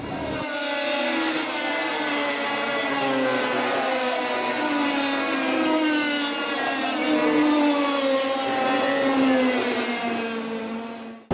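Small 100cc 1990s go-kart engine droning at high revs on the Lonato track, its pitch rising and falling steadily as it races, loud and close with no talking.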